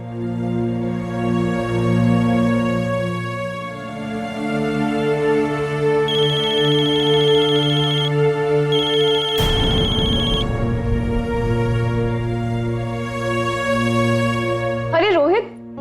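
Phone ringtone playing a looping electronic melody in a Hindi crime drama scene, steady and fairly loud, with a brief sharp tone and a warbling sound near the end.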